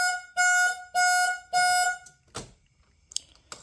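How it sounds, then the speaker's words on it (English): The stock security alarm on a 1978 Corvette honks the car horn in four loud, evenly spaced blasts, followed by a few faint clunks and clicks. "That was the stock security alarm. Doesn't do anything but just honk the horn"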